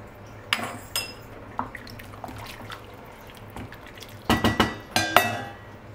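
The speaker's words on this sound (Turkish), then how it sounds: "Kapağını yarım olacak şekilde kapatayım." Lid set half-closed on a pot of boiling red lentils, several sharp metallic clinks and clatters of the lid against the pot rim, clustered toward the end over a low steady hum.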